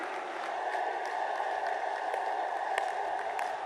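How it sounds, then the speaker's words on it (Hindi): Audience applause greeting Prime Minister Narendra Modi at a public speech, a dense, steady wash of many hands clapping at a distance, fairly faint and continuous throughout. "खड़े होकर अपने स्थानों से तालियों के गड़गड़ाहट से जबरदस्त स्वागत करें"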